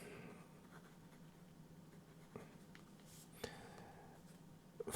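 A fountain pen with a 0.6 mm iridium fine nib scratches across paper, a faint continuous rasp with a few small ticks as the strokes change direction, close up and quiet.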